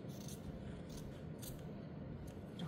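Scissors snip through blouse fabric during sewing, a steady close scraping cut that continues for a few seconds with no talk.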